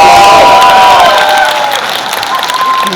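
An audience at a Mumbai birthday celebration bursts into loud, sustained applause, with crowd noise and some cheering blended in, fading slightly toward the end.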